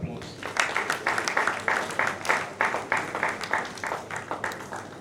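A round of applause for a speaker at a formal event, rhythmic group clapping in regular pulses at moderate volume, with some speech mixed in.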